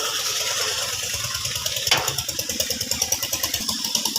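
Steady putter of a water pump motor running in a farm field, a rapid regular engine chug with a sharp click partway through, moderately loud and continuous with no talking.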